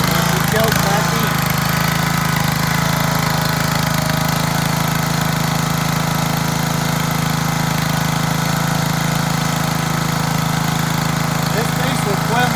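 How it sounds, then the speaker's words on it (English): Small gas engine on a wood splitter, choked and cranked after sitting unused, running loud and steady close up with a constant droning hum and no pauses. "I haven't run this machine in a while, so we're going to choke it, and we're going to crank it."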